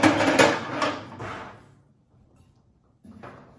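A drawer on a Blackstone storage and prep cart rolled shut with a loud close rumble and clunk, then quiet, then a shorter knock.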